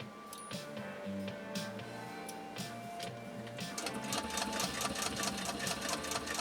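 A hand-cranked Singer 66-1 Red Eye sewing machine runs with a fast, even mechanical clatter of needle strokes. The clatter grows louder and quicker toward the end, with no voices.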